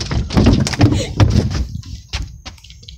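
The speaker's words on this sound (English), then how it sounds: "I think the door slam." A door slams with a few hard thuds and knocks amid rustling handling noise, fairly loud and close, with no clear talk over it.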